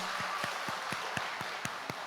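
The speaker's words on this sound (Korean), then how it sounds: "우리 박수로 환영하겠습니다." A church congregation claps at a Sunday morning service to welcome a family with a newborn, giving an even, rhythmic beat of unison claps at a moderate pace. The claps sound fairly soft and somewhat distant.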